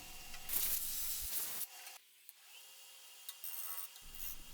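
A wood lathe with an epoxy honeycomb blank held in a chuck, a tool scraping its bottom in a loud, bright whirring rub that cuts off abruptly, followed by a quieter hum and faint ticks.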